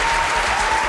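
A studio audience on a Brazilian TV program claps in a dense, loud burst of applause filling the whole short moment.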